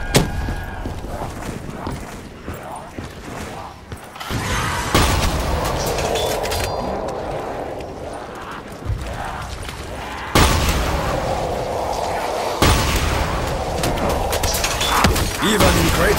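Grenade blasts and gunfire in a video game: heavy booms and crashes over a continuous rumbling din, with sharp louder bursts at intervals, close and loud with no talking.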